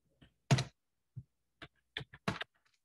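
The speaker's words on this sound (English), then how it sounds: "And I just type it manually." A handful of separate keystrokes on a computer keyboard while configuring a network switch, clicking in short irregular bursts, close and fairly quiet, with no talking.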